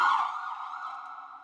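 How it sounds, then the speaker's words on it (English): Steady wailing tone of the siren on a UC Health mobile stroke unit ambulance, loud and close, sounding alone with no talk. "And that's our siren. That's what people hear when they're driving down the road"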